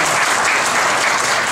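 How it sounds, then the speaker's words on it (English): Loud, sustained audience applause at a county candidate forum, many hands clapping at a constant level from start to finish. "please hold your applause until the end of the program"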